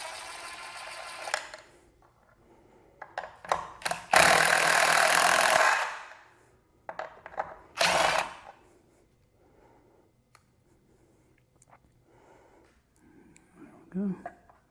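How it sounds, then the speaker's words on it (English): A small impact driver backs bolts out of a Cybertruck roof rack crossbar in two loud, rattling bursts, a longer one and then a short one, close up, with quieter handling clicks and a voice talking between them. "I've got this little small impact driver"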